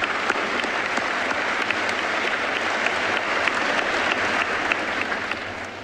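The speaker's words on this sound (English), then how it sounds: "could I get a round of applause for our administrators and our teachers?" Steady, full applause from a graduation ceremony audience for administrators and teachers, continuous clapping filling the room throughout.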